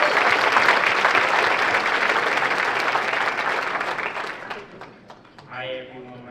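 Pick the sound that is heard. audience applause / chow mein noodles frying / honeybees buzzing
audience applause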